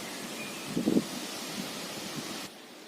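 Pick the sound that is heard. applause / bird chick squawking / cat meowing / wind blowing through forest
wind blowing through forest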